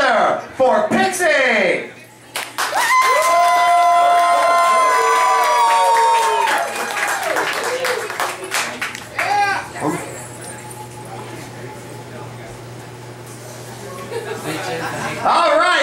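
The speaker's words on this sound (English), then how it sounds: "Please put your hands together for Pixie!" Crowd at a drag open stage show cheers and shouts loudly as a performer is introduced, with overlapping voices, whoops and a musical backing underneath, sustained throughout.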